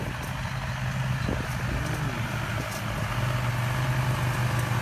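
A McCormick X60.30 tractor runs steadily while mowing a field, giving off a constant low diesel drone at moderate distance with a faint background hiss and no voices.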